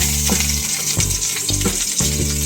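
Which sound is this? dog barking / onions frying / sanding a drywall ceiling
onions frying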